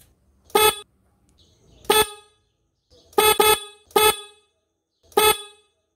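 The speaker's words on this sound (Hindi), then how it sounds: "देखा आपने ये प्रॉपरली यहाँ पर काम कर रहा है दोनों हॉर्न यहाँ पर बज रहे हैं" Five loud honks from two vehicle horns wired through a horn relay, in an irregular rhythm, each a short bright blast with two overlapping tones, separated by silence.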